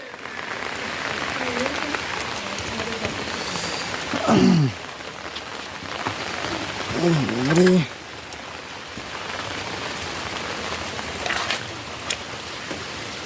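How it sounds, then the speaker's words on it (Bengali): Steady, dense rain pours down in a rural Bengal village, loud and continuous, with a couple of brief voices rising over it midway. "যা বৃষ্টি যা হচ্ছে"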